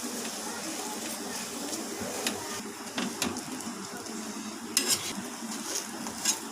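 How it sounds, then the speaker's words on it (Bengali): A paratha fries in a little refined oil on a hot tawa, giving a steady low sizzle with occasional scrapes and clinks of a utensil throughout. "এখানে আমি রিফাইন তেল অল্প নিয়ে নিচ্ছি।"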